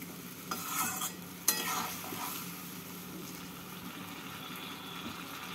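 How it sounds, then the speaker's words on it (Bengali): Fish curry of khayra fish in a pan after half a cup of water is added, a few spoon clinks and scrapes early on, then a soft, even bubbling sizzle that continues quietly. "এবার এর মধ্যে আমি দিয়ে দিচ্ছি হাফ কাপ জল দিয়ে নাড়াচাড়া করে নেব।"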